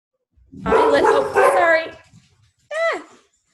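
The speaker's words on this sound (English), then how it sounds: "You guys all have dogs, hopefully. They're going to go crazy." A dog barks and whines close by, first in a long run of harmonic, howling barks and then in one short rising and falling yelp after a brief pause.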